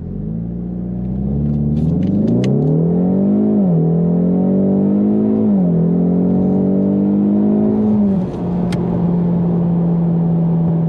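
A 2020 Ford Mustang EcoBoost with the High Performance Package accelerates hard from 0 to 60 mph, its engine a loud, close, droning rumble that climbs in pitch, drops at gear changes and climbs again, with no voices.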